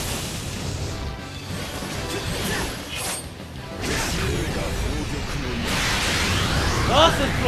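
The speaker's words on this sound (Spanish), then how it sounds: "¡Ah, su explosión de galaxias!" A galaxy explosion attack in the Bleach Soul Resurrección video game bursts out as a sustained crashing, whooshing roar of noisy energy that swells toward the end, over excited talk.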